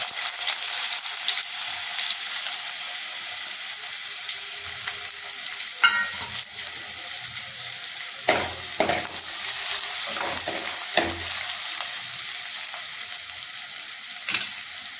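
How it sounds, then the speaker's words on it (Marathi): Chopped onion sizzles and crackles in hot oil for Maharashtrian masoor dal amti, a steady close frying hiss with stirring scrapes and a few sharper clacks of a spoon against the pan, no talking. "इथे 2 पळी तेल टाकलेलं आहे. आता आपण यामध्ये कांदा टाकूया."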